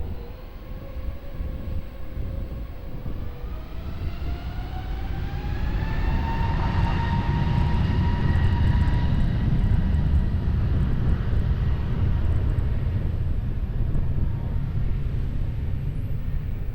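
Jet engines of an airliner taking off from runway 20 at Lisbon Airport rise in a loud, rising whine over heavy rumble, swelling to a sustained roar and then holding steady as the aircraft passes.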